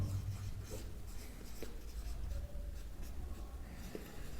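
A pen or pencil writes steadily on paper during a classroom exercise, making a close, continuous scratching texture with small strokes and ticks throughout, and no one speaks.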